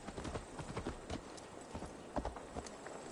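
Horse hooves clip-clop in the video game Assassin's Creed Valhalla, a faint, quick run of soft rhythmic hoofbeats over a low background hum, no voices.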